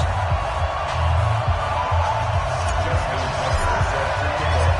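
Stadium crowd in an EA Sports NFL video game on PS4, Cleveland Browns versus Baltimore Ravens, a steady broad roar of background cheering with low rumbling energy throughout, no clear voices on top.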